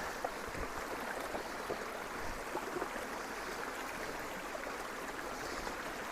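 River water flows steadily, a continuous broad rushing and babbling of the current, close by and moderately quiet, with no voices.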